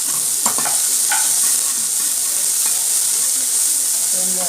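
Curry leaves sizzle and crackle in hot oil, a steady loud frying hiss with occasional pops and stirring sounds.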